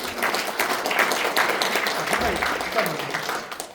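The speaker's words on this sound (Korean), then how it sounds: "다시 한번 큰 박수 부탁드리겠습니다" Audience clapping at a business forum lecture hall, scattered hand claps mixed with crowd noise and some background voices, moderately loud and continuous through the clip.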